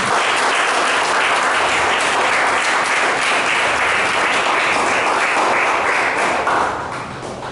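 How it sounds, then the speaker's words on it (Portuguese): Church congregation applauding, a dense, steady wash of many hands clapping that holds strong for about six seconds, then thins and fades toward the end. "muitas palmas para Jesus."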